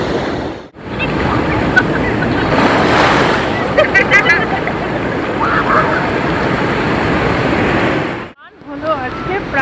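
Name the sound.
ocean waves at high tide on Puri beach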